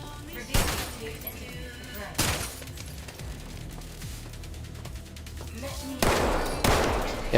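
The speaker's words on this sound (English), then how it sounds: "even with the Magnum, those things take 2 headshots though" Magnum fire in the video game System Shock, three sharp loud gunshot bursts spaced a couple of seconds apart, with game ambience and a voice talking between them.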